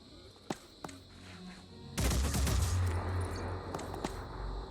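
A heavy soldier in the video game Phoenix Point fires bursts of gunfire: two sharp single cracks come first, then a loud, dense volley of shots crashes in midway and rattles on until the end.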